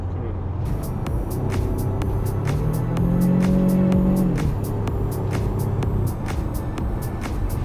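Engine of a Kia K5 with a 7-speed DCT run through manual lever shifts, a steady loud cabin drone that rises in pitch as the car accelerates, then drops and settles back, with no talking over it.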